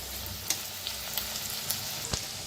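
Ingredients for methi bhaji roast in a pan with a steady, close sizzle and faint crackles and occasional soft stirring taps, no voices.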